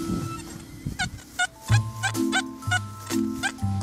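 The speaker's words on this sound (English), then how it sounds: "It doesn't sound like a coin to me. It's a bit messy, that signal." Metal detector signal tones over a buried target in a field, a series of short repeated beeps in a messy, uneven rhythm, fairly close and clear, alone without talk.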